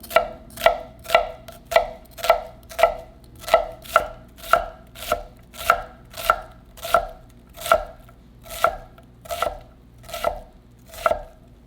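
A knife chops onion on a cutting board for an empanada filling, with about eighteen crisp, evenly spaced chops in a steady rhythm, close and clear.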